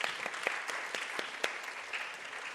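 Audience applauding at a Bharatanatyam arangetram, a steady patter of many hands clapping at moderate volume throughout, with no one speaking over it.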